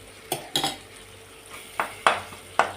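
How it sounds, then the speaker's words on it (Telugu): A utensil scrapes and clinks against a cooking pan as bottle gourd is stirred with green chilli paste, in a handful of irregular strokes, close by, with a faint sizzle underneath. "ఈ పచ్చిమిర్చి కారం మొత్తం సోరకాయలకు పట్టేదాకా కలుపుకోవాలి"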